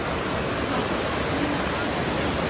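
A waterfall on a farm, its water muddied by rain and nearby construction, roars as a steady, dense broadband rush that stays loud and even throughout, with no clear voices over it.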